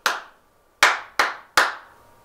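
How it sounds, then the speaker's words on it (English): Four sharp hand claps tapping out a rhythm pattern for a music rhythm-reading exercise, one clap then a pause, then three in quicker succession, close and clear with no talking. "I clap one, you choose the pattern that I clapped."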